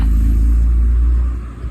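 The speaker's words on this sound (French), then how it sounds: "Et on continue avec une petite Mustang" A Ford Mustang rolls past, its deep low engine rumble loud and close before easing off toward the end.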